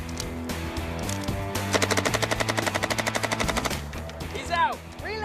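Sustained automatic gunfire in a Hollywood-style continuous-fire test rattles off as a fast, steady string of shots lasting about two seconds, with quieter shots and clatter before and after.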